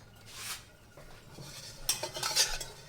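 A spoon stirs and tosses hot chole with slit green chili and ginger julienne in a metal pan, giving scraping swishes and clinks that build to a busier clatter near the end, with a faint sizzle beneath.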